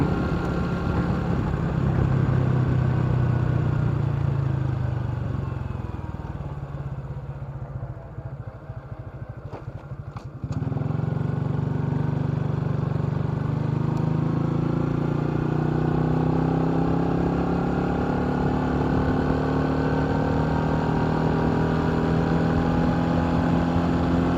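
Motorcycle engine droning steadily while riding in gear, recorded close from a helmet-mounted camera, with a brief dip in power around the middle before the drone resumes and holds a constant pitch; no talking.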